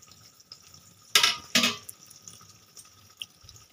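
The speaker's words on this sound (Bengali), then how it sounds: "এবারে ঢাকাটা খুলে দেখব।" Lid lifted off a cooking pot of fish-head and rice stew simmering on a gas flame, two quick metallic clanks close by over a faint bubbling background.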